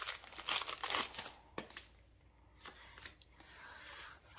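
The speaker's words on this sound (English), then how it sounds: "I'm terrible at shuffling through cards" Pokémon trading cards from an Astral Radiance booster box are riffled and flipped by hand, giving close crisp slapping and crinkling bursts that are loudest at first and then thin to sparser flicks.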